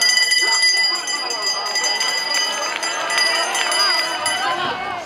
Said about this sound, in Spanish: Volem una altra campana